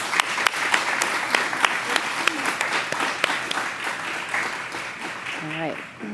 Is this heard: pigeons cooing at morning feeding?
no